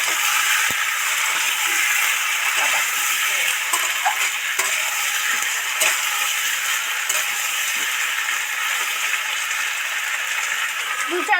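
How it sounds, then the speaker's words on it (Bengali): Chopped tomato stirred into a sizzling egg curry masala in oil, a steady broadband frying hiss running throughout with soft scraping stirs and occasional light clinks, fairly loud and close. "সাথে টমেটো কুচি দিয়ে দিয়ে ভালো করে নেড়ে চেড়ে মিশিয়ে দিয়ে"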